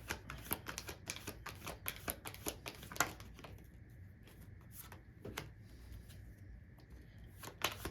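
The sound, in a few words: tarot cards being shuffled and drawn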